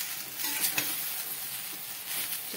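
Sabudana khichdi stirred and turned in a pan over full gas, a soft continuous scraping with faint sizzling, steady and close with no voices.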